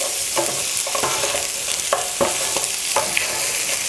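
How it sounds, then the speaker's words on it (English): Goat meat frying in a pan for curry, a steady sizzle broken by regular scraping stirs about every half second, close and fairly quiet, with no talking. "Just make sure you fry it really nice."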